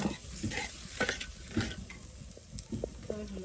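Hilsa fish sizzles in hot oil while a utensil stirs and scrapes the pan in irregular knocks and clinks, close by.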